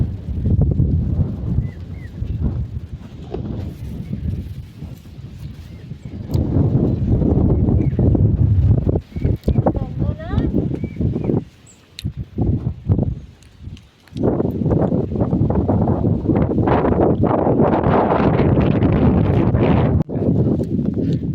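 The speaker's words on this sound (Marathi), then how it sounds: "पाऊस पण धरलाय आहे आणि वारा पण सुटलाय जोरात" Strong gusts of wind with rain buffet the microphone in heavy rushing bursts in a finger millet field in Konkan, dropping briefly before surging again, with scattered knocks and thuds.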